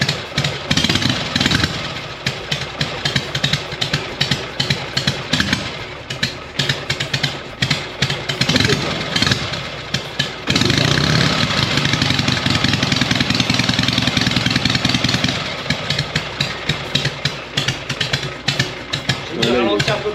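A 1988 Harley-Davidson Sportster 883 engine idles very low, its loud, uneven lumpy rumble running throughout, with a steadier, denser stretch midway and people talking over it.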